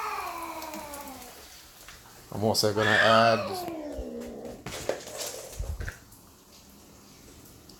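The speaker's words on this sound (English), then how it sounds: "that was my cat's going crazy" A house cat meows loudly in a drawn-out, wavering cry through the middle of the stretch, overlapping a voice as he talks over Hustle Castle gameplay.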